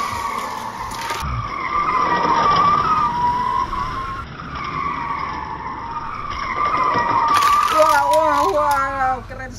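Hot Wheels toy race cars roll down a track in a tournament-style race, a steady whirring, skidding rumble that swells twice, with no one talking over it.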